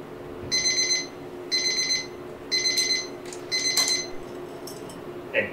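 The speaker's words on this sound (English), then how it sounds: "Here's our timer. We start with a 1 minute plating." An electroplating timer alarm goes off as a one-minute plating step ends, sounding as four evenly spaced bursts of rapid electronic beeping, close and clear with no talk.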